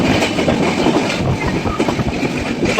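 The Sealdah–Puri Duronto Express runs on its rails with a loud, steady rumble and a continuous rattle of wheels, close and unbroken throughout, with no clear talk over it.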